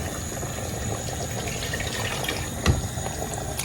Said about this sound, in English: I'll go ahead and add some water from the kettle